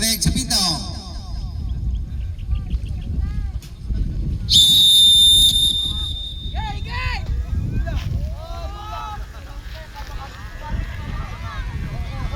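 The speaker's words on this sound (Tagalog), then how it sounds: "Makinig sa pito." A sharp, sustained referee-style whistle blast rings out loud for about a second and a half at a Filipino kite-flying event, surrounded by shouting voices and outdoor crowd chatter.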